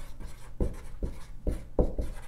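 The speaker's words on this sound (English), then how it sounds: "Instead of daily, I will write constantly." A marker or chalk writes the word "constantly" on a board, a series of short scratchy strokes in an uneven rhythm, faint and close, heard alone.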